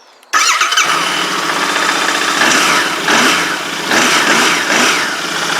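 A Huoniao HN125 motorcycle engine with a Kymco-type engine cranks and fires up abruptly from cold, then settles into a loud, rough idle with a few revving swells.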